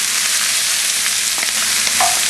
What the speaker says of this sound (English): so now we're going to saute some onions